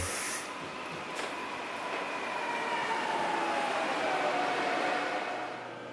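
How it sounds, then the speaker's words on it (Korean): A Gyeongui Line commuter train in Seoul runs with a steady rolling rumble and broad hiss, a faint squeal threading through, holding close and loud for the full stretch before easing off at the end. "이제 서울역으로 돌아가는 경의선 전철을 타보겠습니다."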